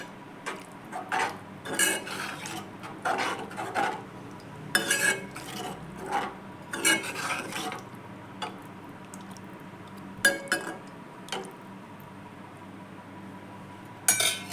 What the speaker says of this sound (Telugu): స్లోగా తిప్పేసుకోండి.